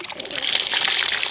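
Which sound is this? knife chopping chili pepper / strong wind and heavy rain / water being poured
water being poured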